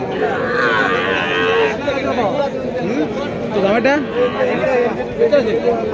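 Sahiwal bull at the Chandimura cattle market in Comilla, with cattle lowing through a constant market din of chattering crowd and nearby voices talking over it.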